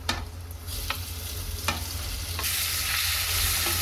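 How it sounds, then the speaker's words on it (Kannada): Tomatoes frying with onion and green chilli in a pan, a steady close sizzle with a few sharp stirring clicks, growing louder and brighter toward the end. "ಟೊಮೆಟೊನ ಕೂಡ ನಾನು ಒಂದು 2 ನಿಮಿಷದವರೆಗೂ ಲಿಡ್ನಿಂದ ಕ್ಲೋಸ್ ಮಾಡಿಕೊಂಡು ಚೆನ್ನಾಗಿ ಫ್ರೈ ಮಾಡ್ಕೊಳ್ತೀನಿ"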